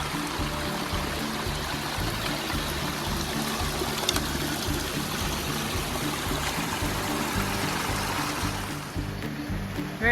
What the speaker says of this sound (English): Look at the water flowing.